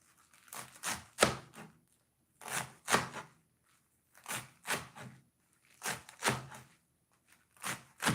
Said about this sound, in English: So you have to chop the kale.